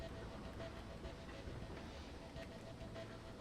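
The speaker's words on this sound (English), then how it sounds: "Like they rendered like an actual moving train." A moving train rendered in a Jimmy Neutron video game, heard as a faint, steady low rumble with a soft rolling hiss and a slight tonal hum, with no distinct rhythm.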